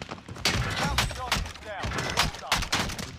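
Gunfire in the battle royale video game Warzone, repeated bursts of shots and sharp cracks over a few seconds, with players talking over the action.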